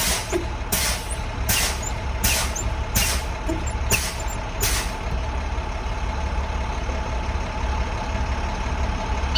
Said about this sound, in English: So you need to drop the PSI and build it back again. So hit the brake pedal.